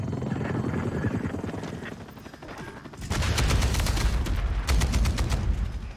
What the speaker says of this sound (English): let's call the chopper gunner